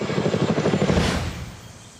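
A helicopter's rapid rotor thumping beats close and loud, then fades as the chopping recedes into the distance.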